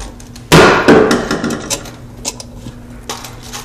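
Recessed high hat light fixture clips pushed up into sheetrock, giving a sharp loud snap followed by several smaller clicks and scrapes, close by with no talking.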